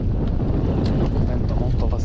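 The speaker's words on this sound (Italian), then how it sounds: "Un vento molto fastidioso." Strong wind buffets the microphone on a boat during inshore sea spinning for barracuda, a steady, dense roar filling the whole clip with no clear voice over it.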